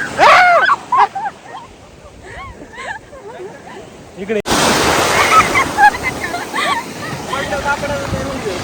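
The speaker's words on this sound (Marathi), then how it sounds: "हो लाट आली मोठी" A big sea wave breaks with a sudden loud rush of surf and keeps churning as spray, following earlier chatter from a woman and child over lighter wind and water noise.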